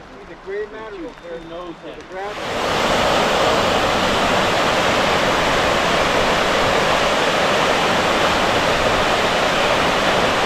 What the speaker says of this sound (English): We always find the waterfalls.